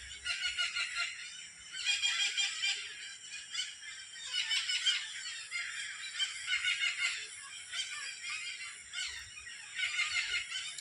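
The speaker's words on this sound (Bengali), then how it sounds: "সারাদিন পাখিগুলা সব জায়গায় বেড়াইছে, এখন এখানে এসে সবাই এক জায়গায় হচ্ছে" A busy flock of birds gathering in one place in the evening calls and chatters continuously from a distance, rising and falling in waves with no talk.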